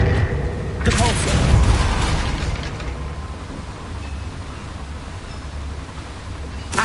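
In the Hogwarts Legacy video game, a Depulso force-push spell goes off as a loud whooshing magical blast that swells and then fades into a low rumble, with a voice calling out the spell.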